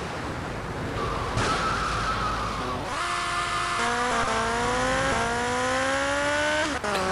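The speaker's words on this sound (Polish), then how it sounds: "Ale już lubię dźwięk tego motoru." A motorcycle engine in the video game GTA Vice City revs and whines, pitch climbing in repeated surges between gear shifts, loud and continuous, with brief tire-skid texture at the start.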